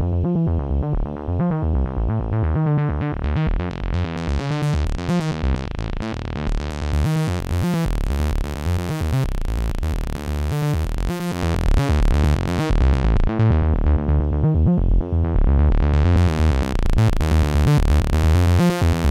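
Roland Jupiter-8 analog synthesizer running a dense arpeggiated sequence of dry, scratchy saw-wave notes, loud and continuous, with brightness that opens and closes across the phrase.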